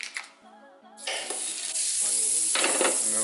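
Butter sizzling in a hot skillet on medium heat with bacon and sausage, a soft start giving way to a steady bright sizzle with a few stirring scrapes.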